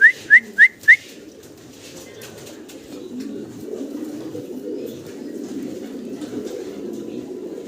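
A male pigeon at a breeding farm coos in a low, continuous burble in the background, after four short, sharp whistles at the start.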